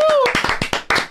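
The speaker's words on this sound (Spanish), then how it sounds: "¡Aplauso!" A few people on a gaming podcast clapping in short, uneven bursts after a mock announcement, close and loud, with voices mixed in.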